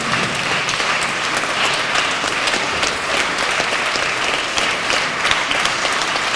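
Steady, dense applause from a concert audience fills a carol concert hall after a performance by a military orchestra, loud and sustained throughout with no break.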